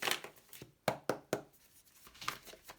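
Tarot cards being shuffled by hand, a few sharp riffling snaps and soft papery slides in quick bursts, close and fairly quiet with no talking.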